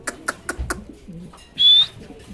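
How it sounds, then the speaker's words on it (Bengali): A pair of grizzle Budapest high-flying pigeons give a few soft, rhythmic coos close by, followed by a brief higher whistling note. "এখানে একজোড়া গ্রিজেল বুদাপেস্ট কবুতর আছে মাশাল্লাহ, খুবই সুন্দর"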